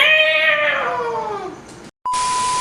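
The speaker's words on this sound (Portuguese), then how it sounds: "Os gatos estão assim." A loud, drawn-out cat meow slides downward in pitch, followed by a brief pause and then a steady electronic beep tone.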